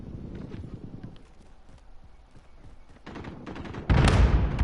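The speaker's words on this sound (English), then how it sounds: "I heard footsteps." Footsteps in the video game Modern Warfare, a run of quick soft steps that begins near and fades, then louder game action such as gunfire bursts near the end.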